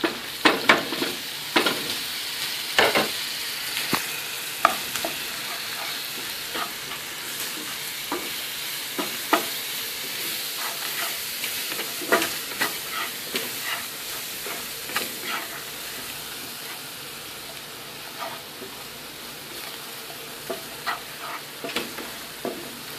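Spices stirred into browned frying onions for a Bangladeshi loitta shutki, eggplant and potato curry, a steady sizzle under a run of sharp spoon scrapes and clicks against the pan throughout.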